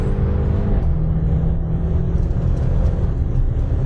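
A BMW X5M running, its engine and exhaust giving a deep, continuous rumble at a steady idle or low cruise, loud and close with no talking.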